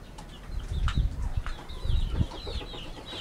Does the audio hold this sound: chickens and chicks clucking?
yes